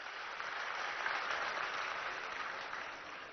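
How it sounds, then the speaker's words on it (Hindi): Audience applause at an award ceremony as a guest is welcomed, a steady even clapping from a large crowd that holds throughout, heard somewhat distant. "जोरदार ताली बजा के स्वागत करेंगे"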